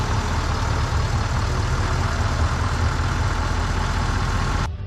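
A 2016 Nissan Titan with the 5.0 Cummins diesel engine running loud and steady with a deep rumbling idle, close up and alone, cutting off abruptly near the end.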